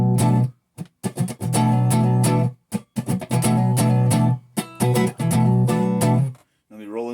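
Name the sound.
electric guitar through PRS HDRX 20 amp, clean, no presence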